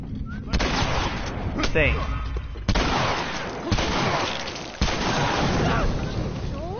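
Repeated gunshots from The Last of Us, sharp loud bursts at irregular intervals with heavy rumbling game audio, while a player talks over the action.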